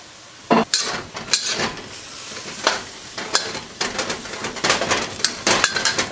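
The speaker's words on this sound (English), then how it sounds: "Return the chicken back into the wok." Chicken pieces tipped back into a hot wok for a Chinese stir fry, giving a series of sharp sizzling bursts and clattering stirs at close range, with no one talking.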